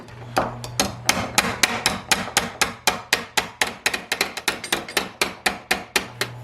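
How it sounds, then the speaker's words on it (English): A body hammer pounds sheet metal for an inner wheelhouse lower section against a dolly on a workbench, some two dozen sharp, ringing blows in a steady, fairly quick rhythm, loud and close with no talking. "I'm going to work this with the old dolly on the bench, and I thought I'd try the body hammer as well"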